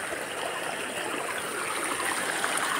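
Abundant stream water flows steadily at a Khasia punji in the rainy season, a continuous rushing wash that stays loud and even throughout with no voices.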